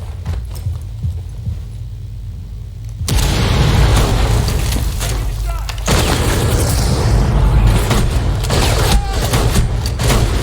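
Grenade explosions in a shooter video game, loud booming blasts with rumbling, debris-filled noise that cut in sharply and keep roaring through the battle, with a player's voice occasionally heard.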